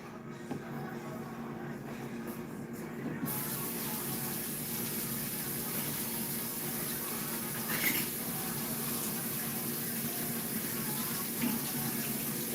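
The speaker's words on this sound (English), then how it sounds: "Just washing my hands, rinsing the towel." A kitchen tap runs steadily while hands are washed and a towel is rinsed during turkey seasoning, a continuous close splashing hiss with small shifts in flow and no talking.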